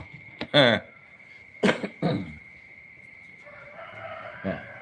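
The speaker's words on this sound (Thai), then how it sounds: "เสียงไก่เขาเลี้ยงไก่" A rooster crows twice in the distance, harsh calls cutting through a steady high hum, with short bursts of noise between.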